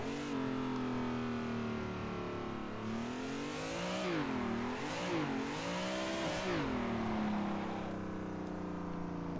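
A car engine in Assetto Corsa revs hard on throttle during a drift, its tone sweeping up and down in repeated surges over a steady loud drone, with no talking.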